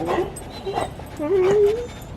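Dogs whimpering and yipping with rising, wavering whines in an outdoor garden while seeds are sown in milk jugs for winter, close and fairly loud, with a little background speech.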